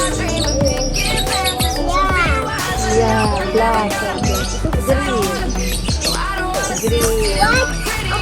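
Small birds, including canaries, chirp and tweet at a bird shop, with quick high calls scattered throughout while people talk close by over a busy street background.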